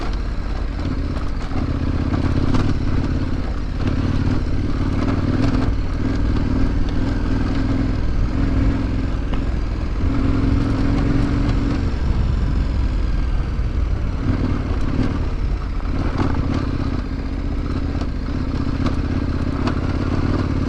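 KTM 1190 Adventure motorcycle ridden slowly off-road over big rocks, its engine throbbing steadily at low revs with clattering and knocks from the terrain, continuous and close.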